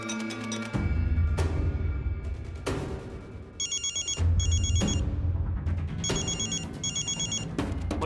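A telephone rings repeatedly in an indoor scene from a Marathi TV serial, loud bursts of electronic trilling bells alternating with a melodic ringtone melody, close and clear with no talking.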